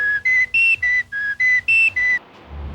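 Wiener whistle blown from a vehicle in eight loud, steady, evenly spaced toots, each about a fifth of a second, followed by a low road rumble.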